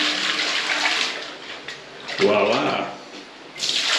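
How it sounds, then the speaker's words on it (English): Water poured from a gayung scoop into a squat toilet in a bathroom near a waterfall in Batu-Malang, giving a broad splashing rush with a short gurgle, then a brief voiced exclamation near the end. "But this is how you flush a toilet."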